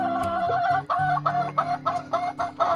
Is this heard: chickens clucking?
yes